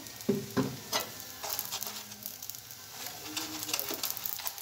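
Aloo paratha frying in oil in a flat pan, a soft steady sizzle with light crackle and a few louder spatters near the start, heard up close with no talk.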